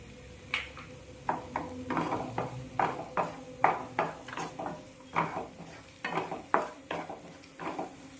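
Egg mixed with coriander leaves being stirred and fried in a pan, with a steady sizzle under repeated scraping and clinking strokes of a utensil against the pan, close and moderately loud.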